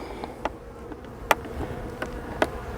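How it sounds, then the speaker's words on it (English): Soft, steady buzzing of honey bees around an open hive, with a few brief louder passes as bees fly close by, no voices. "They've got plenty of bees"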